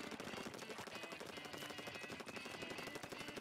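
Airbrush weapons firing in Splatoon 2 Turf War, a quiet, fast rattling stream of rapid shots running steadily throughout with a sharp jolt at the very end.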